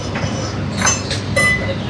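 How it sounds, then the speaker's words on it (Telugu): The Guntur–Tirupati Express is being taken out of the coaching depot for cleaning, giving a steady rolling rumble and rail noise with a couple of brief squeaky whines over it. "సిడిఓ నుంచి ఒక ట్రైన్ అయితే బయటకు తీసుకెళ్తున్నారు."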